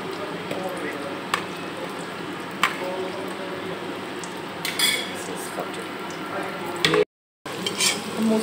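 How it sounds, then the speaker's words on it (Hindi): Okra fries in oil in a kadai with onion and fenugreek while a utensil stirs and scrapes, steady sizzling broken by metallic clinks, with a fan running and a voice talking. "हम उसी तेल में भिंडी बना ले रहे हैं एंड इन द सेम कढ़ाई"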